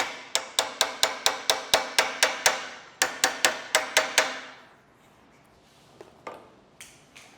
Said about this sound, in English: So I got a universal spanner wrench.